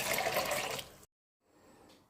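Water poured into a pan for hawthorn hawberry ketchup with vinegar, a loud rushing splash for about a second that stops abruptly, followed by faint residual trickling.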